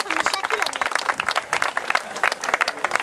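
Applause at an outdoor winery race finish ceremony: a crowd claps steadily and densely for about three seconds, a lively patter of many hands.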